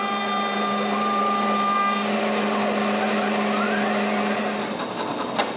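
A wood router cutting through wood under a dust cover with a shop vacuum running alongside, a loud steady high whine and roar that holds for several seconds, then drops off as the cut ends.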